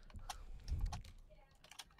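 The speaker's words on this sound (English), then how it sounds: "It feels so weird to be back on the keyboard." Typing on a computer keyboard: quick, irregular clicks of keys being pressed, with a soft thump partway through, fairly quiet and close.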